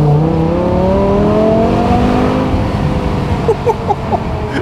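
A powerful BMW E60 M5 engine revs up in a long rising sweep, then settles to a rumbling idle with a few sharp exhaust pops near the end.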